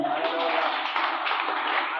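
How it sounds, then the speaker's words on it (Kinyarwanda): A church congregation claps together in praise, a dense, steady wash of many hands clapping at once for about two seconds, fairly close and even in loudness. "Komera Imana amashyi."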